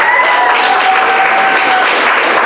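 Audience applause at a schools debate competition for St. Thomas young people: dense, sustained clapping throughout, loud and even, with a faint tonal hum running beneath.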